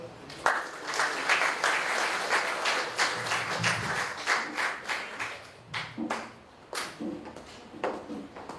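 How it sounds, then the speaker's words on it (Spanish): An audience at a geology lecture applauds to welcome the speaker, a dense, steady burst of many hands clapping that lasts several seconds and then thins into a few scattered final claps. "Recibamos así, por favor, a la geóloga con fuertes aplausos."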